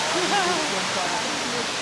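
Singapore's largest indoor waterfall roars as a loud, steady wash of falling water, with a voice talking over it briefly.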